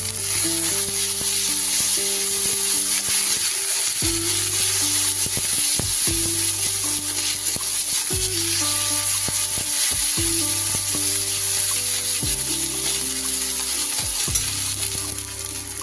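Onions sizzling and frying in hot oil with ginger, garlic and green chili added for a prawn curry, a steady loud sizzle throughout with intermittent stirring scrapes and pauses every couple of seconds.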